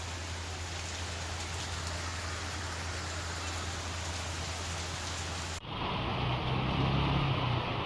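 Heavy rain pours down during a thunderstorm in Tamil Nadu, a dense, steady roaring hiss that fills the scene, shifting abruptly in tone near the end, with no voices.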